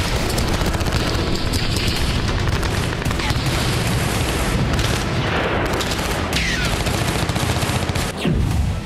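Heavy gunfire and explosions from combat in Kursk, a dense, continuous roar of rapid shots and booms throughout, loud and close, with a deep blast near the end.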